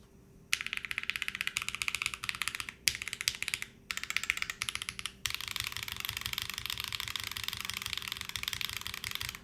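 Rapid typing on a Teton 78 prototype keyboard with an aluminum plate, a dense stream of crisp, close keystroke clacks with a couple of brief pauses before settling into steady continuous typing.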